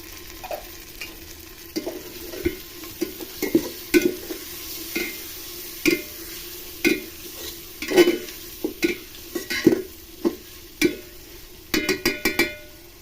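Tomatoes and onions frying in a pan for a vegetarian khichuri, with a continuous sizzle under frequent rhythmic scraping and clinking of a spatula stirring against the metal pan, close and fairly loud, no talking.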